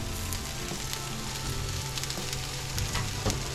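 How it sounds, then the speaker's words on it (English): Steady, quiet sizzling of garlic butter frying in a pan, a soft crackling hiss with small pops, no voices. "Look at that sizzling, that's nice and warm"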